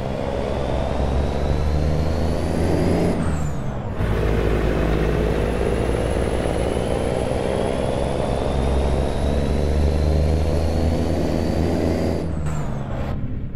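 A modded heavy truck engine in American Truck Simulator drones loudly and continuously with a deep rumble, interrupted by brief hissing air-brake bursts and gear-change dips.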